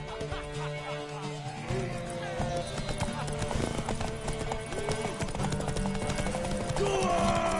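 Horse hooves in the Witcher 3 video game on PS5, a rapid galloping clip-clop at close range with an occasional whinny, mixed with voices shouting over the ride.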